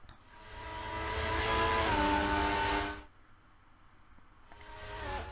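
Formula racing car engine in a racing video game, running at about 124 mph and sounding faulty: a strained, buzzing high-pitched drone that holds for three seconds, drops away, then returns.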